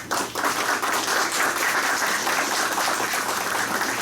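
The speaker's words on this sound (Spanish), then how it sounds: "previo un fuerte aplauso para la inauguración del curso" A crowd applauds steadily at the opening of a course, dense clapping sustained throughout at an even level, with no voices.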